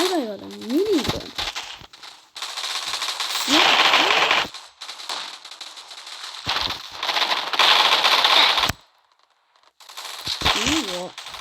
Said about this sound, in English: my guy got a minigun